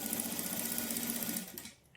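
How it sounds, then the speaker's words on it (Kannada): A sewing machine stitches thread piping onto a single-piece hem. It gives a close, steady, fast whirring chatter for over a second, then slows with a few last stitches and stops. "ಈ ಥ್ರೆಡ್ ಎಲ್ಲಿವರೆಗೂ ಇರುತ್ತೋ ಅಲ್ಲಿವರೆಗೂ ನಾವು ಇದೇ ಥರನೇ ಸ್ಟಿಚ್ ಮಾಡ್ಕೊಳ್ಬೇಕು."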